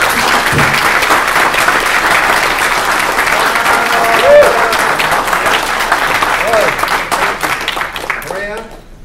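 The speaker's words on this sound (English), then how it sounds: "Let's give them a big round of applause." A large conference audience claps and applauds loudly and continuously, then the clapping thins out and fades near the end.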